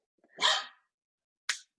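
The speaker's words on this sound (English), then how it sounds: "barking for emphasis" A dog gives one short, breathy bark or huff, followed a second later by a brief, sharp second burst, both close and loud against silence.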